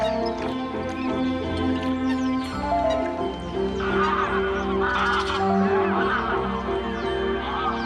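Greylag geese honk in a dense, continuous chorus at Doñana park in autumn, a large flock calling loudly and steadily throughout.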